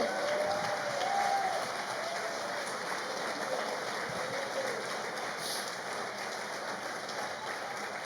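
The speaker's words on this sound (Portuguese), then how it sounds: "Demos um aplauso a Ele, que Ele é digno" Applause from a congregation at a prayer summit, a continuous soft spread of clapping heard from a distance at low level, steady and unbroken throughout.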